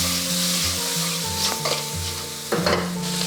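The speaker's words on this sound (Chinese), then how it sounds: "我们淋一圈料酒去腥增香" Cooking wine poured over swimming crabs frying in a hot wok brings a loud, steady close sizzle, with stirring scrapes and bursts of spatter; no talking.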